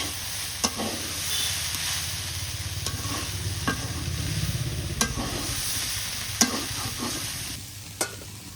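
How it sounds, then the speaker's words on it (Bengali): Potatoes and long beans are stir-fried in a village kitchen. A steady sizzle runs under several sharp scrapes of the spatula, with no voices. "আলু আর বরবটি ভাজা হয়ে গেছে"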